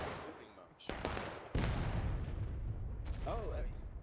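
Musket-style gunfire from the Civil War battle game War of Rights cracks out in several sharp reports, followed by sustained rumbling volleys, with a voice talking over it.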